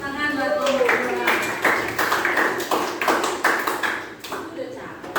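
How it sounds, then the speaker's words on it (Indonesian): Audience clapping at an academic supervision session, a burst of hand claps and sharp taps heard close up, with a voice speaking over the start and the clapping thinning toward the end. "tepuk tangan buat Om Bura."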